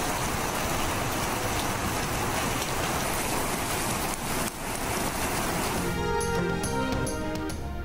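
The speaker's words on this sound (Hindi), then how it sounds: "इस्लामाबाद और रावलपिंडी में शदीद बारिश।" Heavy monsoon rain pours over Islamabad and Rawalpindi in a dense, continuous roar of drops, loud and close, with a brief dip before the downpour resumes.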